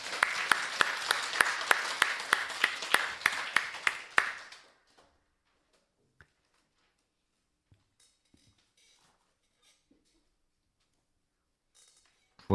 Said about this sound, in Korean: 우리 성가대에게 다시 한 박수.